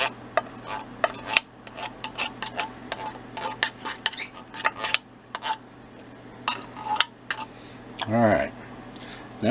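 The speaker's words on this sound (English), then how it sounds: "now we're going to take the spoon and just mix this up real good" A spoon stirs sweetened milk into a poked coconut cake with quick, irregular clinks and scrapes close by, and a voice sounds briefly near the end.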